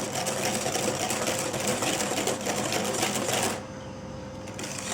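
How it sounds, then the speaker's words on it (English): Cream cheese and sugar being whisked for a no-bake cheesecake, a steady mechanical whirring buzz that drops to a quieter hum near the end, with no talk. "You want to whisk it till the sugar almost dissolves and the mixture is smooth."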